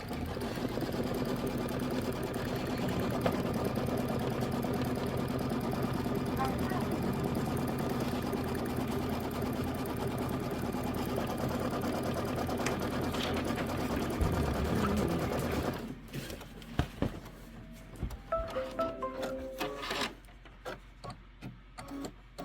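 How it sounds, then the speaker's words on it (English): An embroidery sewing machine stitches out a Kimberbell mini quilt with a loud, fast rhythmic needle chatter for about fifteen seconds, then stops, leaving scattered clicks and light handling noises. "So let's go ahead and stitch this out."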